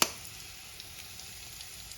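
Chopped onion sizzles in a hot pan for an egg poach, a faint, steady crackling hiss after a brief clatter at the start.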